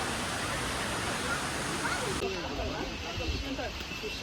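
Abbi Falls in Coorg, Karnataka, swollen in the monsoon, pours with a steady, loud broadband roar that fills the whole stretch, with faint crowd voices mixed into the rush.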